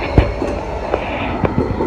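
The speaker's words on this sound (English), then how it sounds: "that would have been a good tram to catch." A city tram rolls past close by with a steady rumbling roar and several sharp clacks from the wheels over rail joints, loud and without talk.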